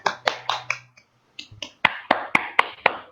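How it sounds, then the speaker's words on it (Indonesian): Handful of quick claps in an Indonesian sixth-grade classroom after singing Indonesia Raya, sharp distinct slaps in a loose rhythm, close by, with a short gap partway through before a steadier run of claps. "Yeay, tepuk tangan."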